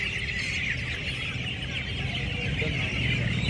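Roosters and hens at a crowded poultry market cluck and call continuously, a dense overlapping chorus of many birds close by, loud and unbroken.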